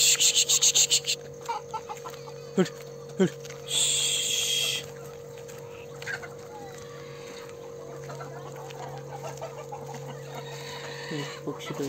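Country chickens at a farm cluck and squawk in scattered short calls, with one loud harsh burst, while a person talks over them at close range.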